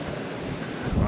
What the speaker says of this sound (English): Wind's really getting up now